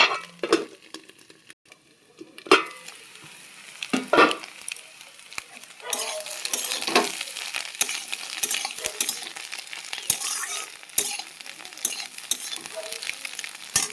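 Onions fry and sizzle in a pan while a utensil stirs them, with scraping and clinking strokes and a steady crackling hiss between moves, close and fairly loud.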